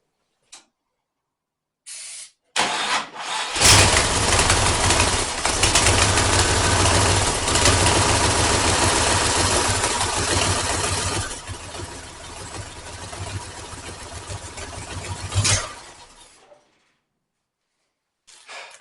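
A hot rod engine fitted with a new exhaust fires up after a brief silence and runs at a rough, steady idle for about twelve seconds before shutting off, close and alone.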